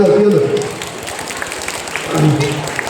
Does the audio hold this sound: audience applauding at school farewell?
yes